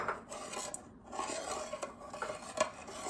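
Leftover corn scraped and spooned into a pot of Southern Brunswick stew, with steady metallic clinks of utensils on pot and a soft scraping texture, close and moderately loud with no talking.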